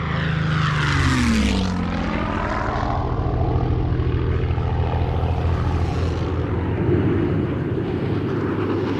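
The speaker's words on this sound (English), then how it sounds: "B-29 super fortresses are now within striking distance of Tokyo" Propeller engines of a World War II B-29 Superfortress bomber roar loudly, with a pitch that sweeps downward as the aircraft passes close by and then a sustained heavy drone.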